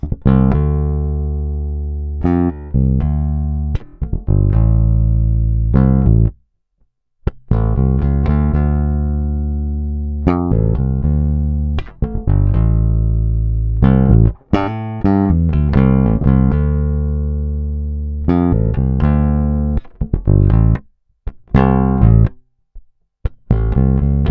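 Plucked bass guitar notes played through a preamp, a steady run of deep, sustained tones with brief pauses between phrases, clean and upfront with no voices.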